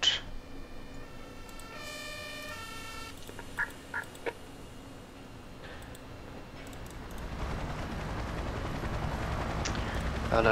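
A rescue helicopter in the emergency-services game Emergency 4 gives a steady broadband rotor whir that swells louder toward the end, following earlier tonal siren-like game sounds, with no talking.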